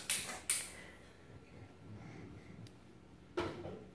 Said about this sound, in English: Daddy's just fixing the chair.